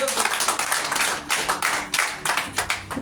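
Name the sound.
congregation applauding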